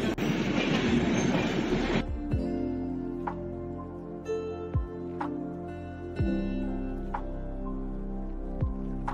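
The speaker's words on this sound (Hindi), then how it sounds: "ये है पुरुषोत्तम एक्सप्रेस जो कि दिल्ली से आ रही पुरी तक" Purushottam Express passenger train running from Delhi to Puri, heard from close by with a roaring rush at first, then steady rumbling and a rhythmic clickety-clack of wheels over rail joints, with occasional wheel squeal.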